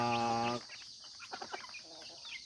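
A free-range hen, a Tanaka Shamo cross with a native Bisaya chicken, gives a short, loud harmonic call followed by soft, scattered clucks at a small backyard poultry yard, fairly faint after the opening call.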